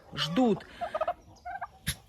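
Farmyard turkeys gobble while waiting to be fed nettles, several close, warbling gobbles in quick bursts followed by a short sharp call, with no talking.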